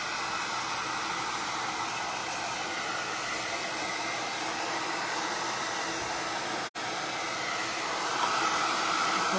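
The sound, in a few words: hair dryer drying glue on a craft project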